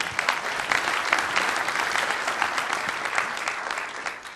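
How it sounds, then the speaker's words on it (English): Applause from an audience at a Microsoft Dynamics NAV product presentation, dense sustained clapping from many people, even and steady throughout with no talking over it. "You can clap now."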